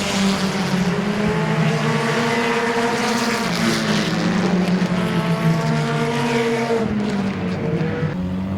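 Several race cars roar around the asphalt track at Midvale Speedway. Their engines overlap, rising and falling as they pass, loud and continuous throughout.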